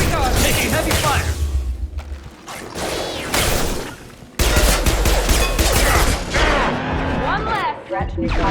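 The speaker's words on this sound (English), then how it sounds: "Taking heavy fire!" Heavy gunfire in Mass Effect 2 on Insanity difficulty at Freedom's Progress: dense, loud, continuous weapon fire and impacts with crashing hits, combat shouts and voices breaking in over the din.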